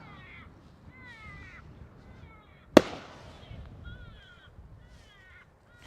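A single sharp bird-scaring flare bang cracks out at Amsterdam Schiphol Airport amid distant crow-like bird calls, its echo trailing off for a couple of seconds.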